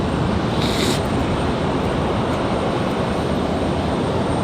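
An American Airlines plane from Charlotte rumbles at Raleigh-Durham airport, a steady broadband engine roar heard at a distance with no voices.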